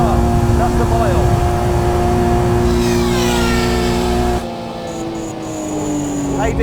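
A 900 bhp Nissan Skyline R33 400R with a 2.8-litre RB-X GT2 engine and five-speed gearbox screams at around 180 mph on the Nürburgring in Assetto Corsa. The loud, steady high-revving drone briefly dips, and someone talks over it.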